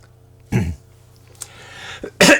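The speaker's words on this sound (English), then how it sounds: "It's a little bit of a cough." A few separate coughs and throat-clearing bursts, close and fairly loud, with quiet gaps and a low steady hum between them.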